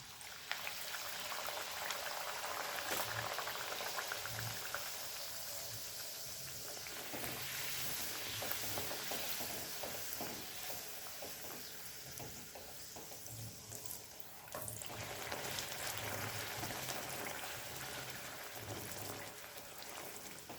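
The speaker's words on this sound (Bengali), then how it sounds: "এবার গ্যাসটাকে মিডিয়াম টু হাই ফ্লেমে রেখে লুচিগুলো ভেজে নেব।" Luchi frying in hot oil in a kadai over a medium-high gas flame, giving a dense, steady sizzle and crackle that carries on without pause for the whole stretch, with no voices.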